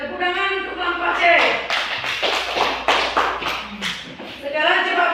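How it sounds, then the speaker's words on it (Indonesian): A class of students claps for a student group in a classroom, a run of quick, close hand claps over a few seconds while a teacher's voice speaks over it. "Tepuk tangan untuk kelompok C."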